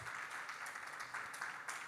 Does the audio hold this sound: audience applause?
yes